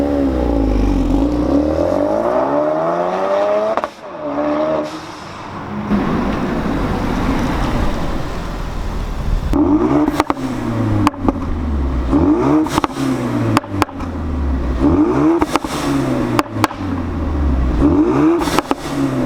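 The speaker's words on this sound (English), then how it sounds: "we're gonna do some just normal takeoffs right now just to kind of get you an idea of how the tone of the car" A Ford Focus RS with a catback exhaust pulls away from several takeoffs, each run rising in pitch through the gears with crisp shift breaks, loud and close from inside the car.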